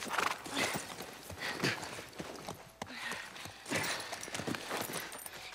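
Horse hooves clopping in The Last of Us Part 1, a steady run of hoofbeats with a possible whinny, heard fairly close amid game ambience and no talk.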